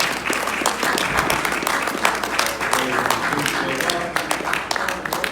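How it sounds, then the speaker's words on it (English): A live audience at a Los Angeles show breaks into sustained applause, a dense wash of clapping that carries on steadily with some voices mixed in before tapering slightly. "Give yourselves a round of applause one more time."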